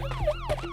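An ambulance siren wails in a traffic jam, loud and close, its tone sweeping up and down in rapid repeating cycles with no voices over it.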